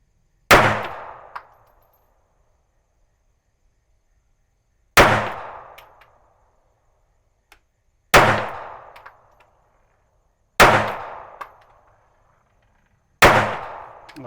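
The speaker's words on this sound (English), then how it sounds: "Let's go ahead and send some rounds downrange." Five loud, sharp pistol shots from a Smith & Wesson M&P Shield EZ Performance Center handgun fired downrange at a shooting range, evenly spaced a few seconds apart, each with a short echoing decay and no talking.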